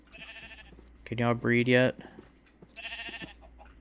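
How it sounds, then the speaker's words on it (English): Sheep in a hardcore Minecraft survival world bleat in short, clear cries: a brief call, a louder wavering bleat in the middle and another call near the end, while a person speaks quietly between them. "Sheep. Sheepy sheep."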